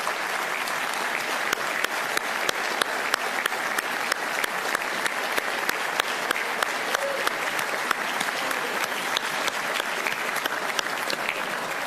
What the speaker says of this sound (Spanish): les pido que recibamos con un gran aplauso a nuestra selección femenina de vóley de playa